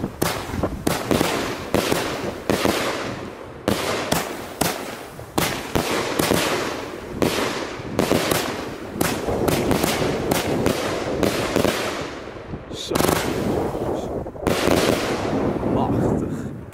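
Funke Weisseblinker Dalian, a 25-shot firework cake, fires a rapid, loud string of bursts and crackling reports for about sixteen seconds, with only brief gaps between volleys.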